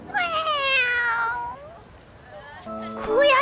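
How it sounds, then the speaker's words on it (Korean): A house cat meows in a long, drawn-out, close cry, followed by a short pause and a second rising meow at the end. "고양이네."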